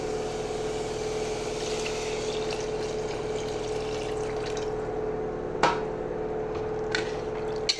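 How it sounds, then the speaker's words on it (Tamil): Tamarind water is poured into a cooking pan, giving a steady liquid rush and sizzle throughout, with a couple of brief clinks near the end and no talking. "இப்போ புளி கரைச்சல் ஊற்றிக்கலாம்."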